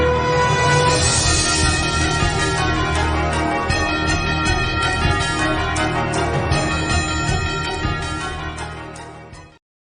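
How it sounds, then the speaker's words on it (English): Bells chime through a full, dense music intro for a boxing segment on a sports talk show, ringing steadily over the mix for nearly ten seconds before the sound cuts off abruptly. "Just the bells in the background almost reminds you of Rocky"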